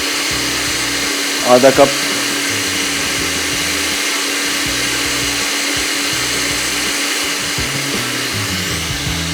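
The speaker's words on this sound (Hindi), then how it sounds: "तो थोड़ा सा और ग्राइंड करेंगे।" An electric grinder grinds spice paste with a loud, steady motor whir that runs unbroken from start to finish, while a voice speaks briefly early on over it.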